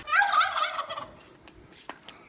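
A turkey gobbles repeatedly in a village in Punjab, loud and fairly close, a quick burst of throaty warbling calls that trails off into quiet farmyard background.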